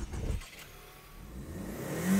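A Ford Mustang convertible engine gives a short, deep rev burst at the start, drops to a low idle, then swells again toward the end; fairly close and with no voices.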